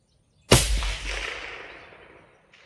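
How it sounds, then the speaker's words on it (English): A single loud, close rifle shot from a 300 PRC long-range hunting rifle cracks sharply, then a long rolling echo fades over about two seconds in an open outdoor setting. "I'm gonna shoot one more."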